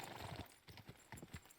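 Horse galloping in Kingdom Come Deliverance 2, a rapid run of hoof clip-clops with a brief whinny near the start, fairly quiet and steady throughout.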